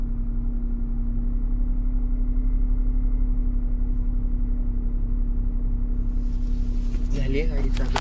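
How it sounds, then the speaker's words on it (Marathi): A motor vehicle engine idling steadily with a constant low hum throughout, close by, with a brief clatter near the end. "झाली गाडी चालू. गाडी लागली आता कूल डाऊन व्हायला."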